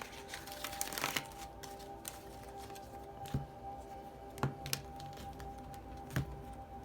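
A deck of medicine cards used for a tarot reading is shuffled softly and a single card is pulled, with light riffling and a few distinct close taps and flicks over a quiet room hum.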